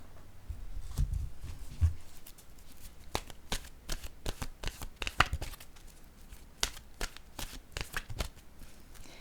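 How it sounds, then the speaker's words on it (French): Oracle cards shuffled by hand before one is drawn, a run of quick papery riffles and taps that sound close and fairly soft, with short bursts coming in an uneven rhythm and a few heavier thumps near the start. "Je vais tout de suite piger une carte de mon oracle de l'âme intuitive."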